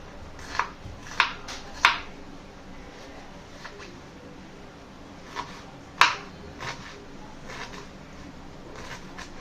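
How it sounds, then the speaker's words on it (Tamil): Onion being cut with a knife in a village cooking setting, a few sharp, separate knocks of blade on board spread across the clip, near and moderately loud over a steady background hiss. "ஆனியன் கட் பண்ணிக்கிறோம்"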